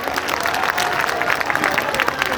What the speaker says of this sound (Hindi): आप करतल ध्वनि से जोरदार ताली बजा करके इनका स्वागत कर दीजिए।